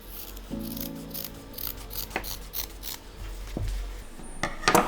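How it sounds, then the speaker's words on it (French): Scissors snipping off excess fabric beside a straight-stitch seam on a bath cape, several close, crisp cuts and rustles of cloth in a quiet room, with a low hum briefly underneath. "On va couper le surplus de tissu."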